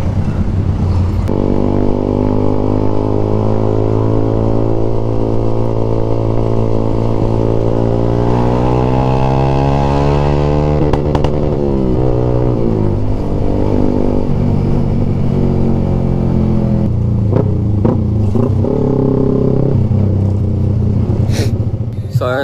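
A Yamaha Sniper motorcycle engine running after sitting unused for a month, idling loud and close with a rough rumble, a rising then falling rev in the middle, and clattery ticks toward the end.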